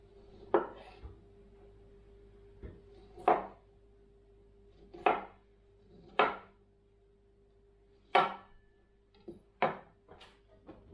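Knife chops cauliflower on a cutting board for cauliflower mash, with about eight sharp, separate thuds spaced a second or two apart, close and clear against a quiet kitchen background.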